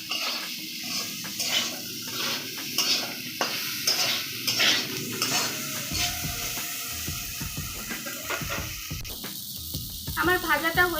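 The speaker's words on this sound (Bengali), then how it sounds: "আমার ভাজাটা হয়ে গেছে আলু বেগুন" Potato and eggplant fry in a pan with soft, intermittent sizzling and spatula scrapes, fairly quiet and close, with brief stirring clatter and a small burst of sizzle near the end.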